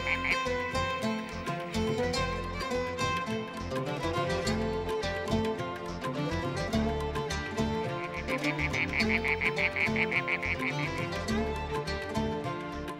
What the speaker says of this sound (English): within 24 hours, all the male toads in this wadi are calling for mates.